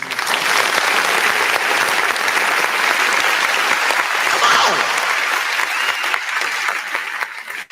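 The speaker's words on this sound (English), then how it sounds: "Man, give yourselves a round of applause." A crowd gives a loud round of applause, thick and continuous with a few cheers mixed in, fading out abruptly at the close.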